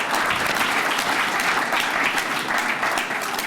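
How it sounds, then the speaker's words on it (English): A summit audience breaks into sustained applause, many hands clapping densely and evenly at full volume for the whole stretch. "Give yourselves a round of applause,"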